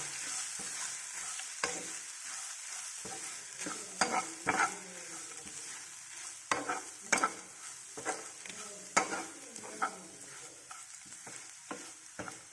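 Steady sizzling of coconut rice paste frying in a pan, broken by repeated scraping strokes of a spoon stirring the thick paste, close and continuous.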